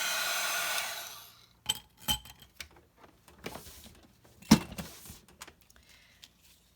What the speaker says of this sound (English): You can see how fast the powder melts whenever your heat tool has been properly warmed up and is hot and ready to go.